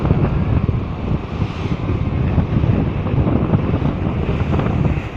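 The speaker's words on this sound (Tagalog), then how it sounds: "Dito tayo sa ferry boat." Strong wind buffets the microphone aboard a ferry boat crossing the San Bernardino Channel of the Pacific, with rushing waves and surf beneath in a loud, continuous roar, no voices.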